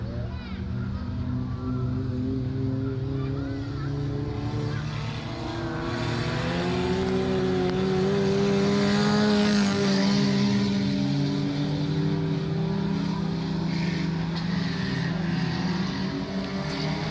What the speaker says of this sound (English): heat race number 3 back out on track, Junior Sedans, getting all types of swirl down the main straight as Paige Jordan out front once again